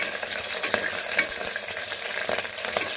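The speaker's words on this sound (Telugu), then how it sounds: "ఇప్పుడు పచ్చిమిర్చి వేసుకుని కొంచెం సిమ్లో పెట్టుకొని" Green chillies fry in hot oil over a low flame for a Bakra Eid mutton curry, giving a steady close sizzle broken by scattered sharp pops and the scrape of a stirring spoon, with no talking.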